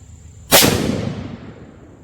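A single sharp, loud rifle shot from a Bear Creek bolt action .22-250 upper with a long barrel, a sudden crack followed by a decaying outdoor echo, with no talking.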